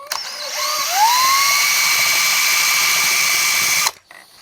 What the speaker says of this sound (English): we got the drill